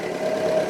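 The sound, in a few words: 1954 Ford NAA tractor engine running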